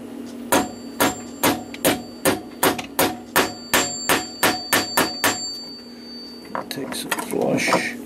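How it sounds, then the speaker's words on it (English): A hammer drives a brass bushing into the plate of a New Haven drop octagon clock during restoration, giving about fifteen sharp, evenly spaced metallic taps up close, followed by some scraping and handling. "Take a hammer."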